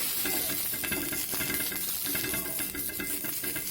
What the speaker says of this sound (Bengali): এই দেখো তাওয়াতে বুলিয়ে দিচ্ছি গোটায়, যাতে পিঠেটা ভালো করে উঠে